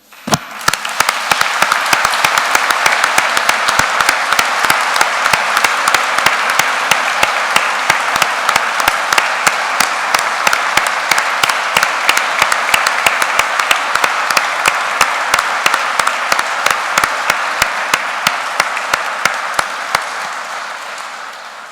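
Congregation applause at a parish Mass honouring a priest in Carballiño, a dense, steady burst of clapping that fills the church for about twenty seconds at close range, then thins out at the end, with no voices over it.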